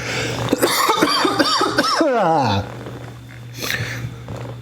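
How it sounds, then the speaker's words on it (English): A voice talks briefly, then a drawn-out vocal sound slides downward, followed by a short cough-like burst over a constant hum. "Hey, big cough."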